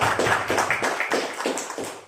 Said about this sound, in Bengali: এবার হাততালি জোরদার।